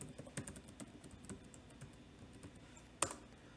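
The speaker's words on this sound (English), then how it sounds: "And so now we need to type the name of the output file." Typing on a computer keyboard gives soft, quick, irregular key clicks, faint and close, ending with one sharper, louder keystroke.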